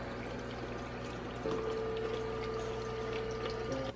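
Water streaming from a dispenser into a cup filled with ice, a steady close rushing flow with a faint mechanical hum underneath, running continuously throughout.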